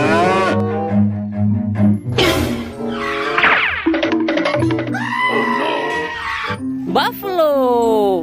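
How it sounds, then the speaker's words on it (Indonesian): A buffalo lowing sound plays from a toy animal, with drawn-out moo-like calls mixed among lively talking, loud and close throughout. "Buffalo."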